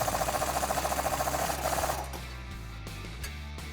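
Steady mechanical ratcheting from an 18mm socket tightening a bolt on a 2011-2019 Dodge Challenger's suspension during a shock and strut install, a rapid even clicking that runs loud for about two seconds, then fades into quieter, sparser ticks.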